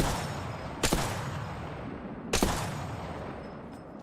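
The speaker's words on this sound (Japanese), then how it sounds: "発砲中。" Gunfire in a battle royale video game: two sharp, loud shots about a second and a half apart, each fading into a decaying echo.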